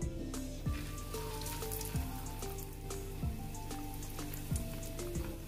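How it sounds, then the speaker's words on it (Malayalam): Prawn cutlets coated in bread crumbs frying in hot oil in a pan, a continuous fine crackling sizzle with a steady hiss and occasional soft pops, fairly quiet and close. "ഓയിൽ ഒഴിച്ചിട്ട് നന്നായിട്ട് ചൂടായി കഴിഞ്ഞാൽ നമുക്ക് കട്ട്ലേറ്റ് ഫ്രൈ ചെയ്തെടുക്കാം"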